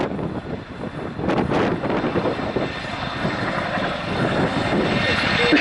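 Chinook helicopter at the Duxford summer air show, a steady rotor and engine roar with wind buffeting the microphone, some crowd sound and an announcer's voice underneath.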